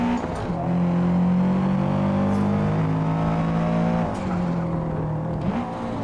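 Subaru STI engine in the Forza Motorsport racing game, a loud, steady close-up drone whose pitch drops sharply a few times as the car downshifts, with no talking.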